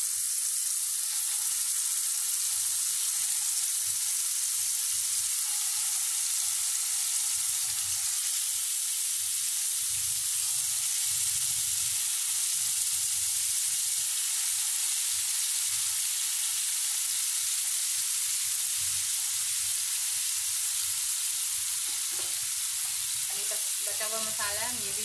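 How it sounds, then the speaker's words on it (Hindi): Chicken pieces fry in a pan with a steady, continuous sizzle lasting the whole stretch, with faint stirring and pan noises underneath, close and fairly loud, no one talking. "अब इसी तरह बचा हुआ चिकन हम अपना और फ्राई कर लेंगे दोनों तरफ से।"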